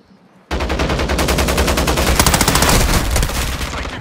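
Sustained automatic gunfire in the video game Warzone: a loud, rapid burst of shots starts abruptly after a short quiet moment and keeps going steadily, close and dense, with no talking.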